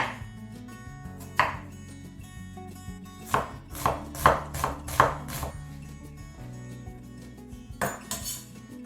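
A knife chops red onion into small pieces on a board, with sharp, irregular chops clustered in quick bursts and light clinks of metal, close and with no talking.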